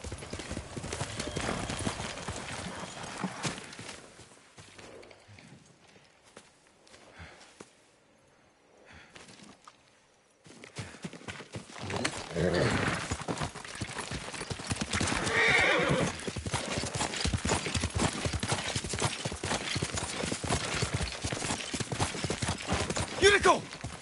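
Horse hooves clip-clopping in a steady gait with repeated neighs and whinnies in the video game Ghost of Tsushima, set in a feudal Japanese landscape, fairly close and loud, with a quieter lull partway through.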